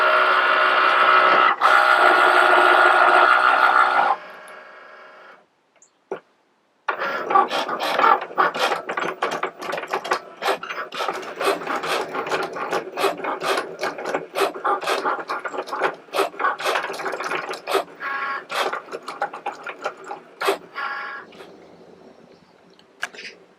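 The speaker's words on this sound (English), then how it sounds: "Let's hit that button and the machine will detect the tool and it will start the cut" A Cricut cutting machine runs a cut for an upcycled firefly jar project, giving a steady mechanical whir followed by a long stretch of dense ratcheting clicks and gear chatter, close and continuous with short pauses.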